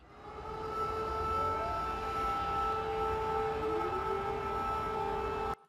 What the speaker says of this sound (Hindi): ये सायरन बजा, आपने सुना